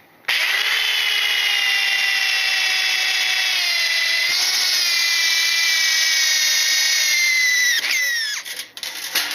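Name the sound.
power drill making guide holes in 304 stainless steel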